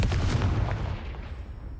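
A Confringo explosive spell goes off in the video game Hogwarts Legacy, a single loud, deep booming blast that rolls and fades over about two seconds.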